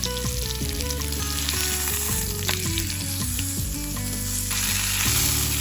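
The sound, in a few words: searing food in hot oil in a pan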